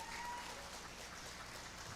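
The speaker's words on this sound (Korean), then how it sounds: "박수 한번 부탁드리겠습니다" Steady, dense clapping from a seminar audience, an even hiss-like wash of many hands at moderate distance, with a faint tonal sound briefly over it.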